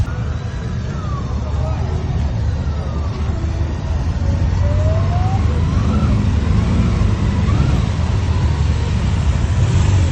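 Motorcycles arrive at a rally in Bila Tserkva, engines rumbling and revving continuously nearby amid crowd noise, with people talking throughout.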